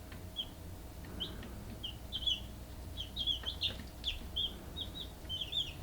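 High, thin peeping calls from young chicks, repeated in short bursts over a low steady rumble, moderately close and fairly faint.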